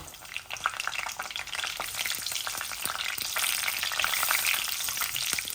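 Dry whole spices, including cinnamon, cardamom, bay leaf, fennel and fenugreek, fry in a spoonful of oil in a pan, with a dense, bright crackling sizzle and small popping ticks throughout.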